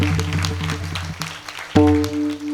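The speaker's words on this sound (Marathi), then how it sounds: "एकदा टाळ्या वाजवा" Audience clapping at an Amavasya kirtan at the Balumama temple in Dhaygude Wadi, a short burst of applause mixed with sustained musical drone tones that swell near the end.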